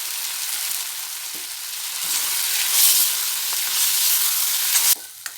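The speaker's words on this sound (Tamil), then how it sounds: "இப்போ தக்காளி அதோட போட்டோம்" Chopped tomatoes frying with onions in a pan for tiffin sambar, a steady loud sizzle that carries on without a break and then suddenly drops away near the end.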